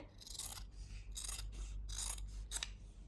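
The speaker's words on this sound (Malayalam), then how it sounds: "നമുക്ക് ഷോൾഡർ ഒന്ന് കട്ട് ചെയ്യാം കേട്ടോ." Scissors snip through blouse fabric at the shoulder, about five close, crisp crunching cuts in an uneven rhythm, quiet and alone with no talking.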